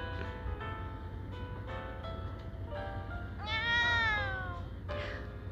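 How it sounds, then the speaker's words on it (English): A pet cat meows repeatedly up close, a string of short meows followed by one longer, louder drawn-out cry and a final brief call, with a steady hum underneath. "Oh, my cat being weird."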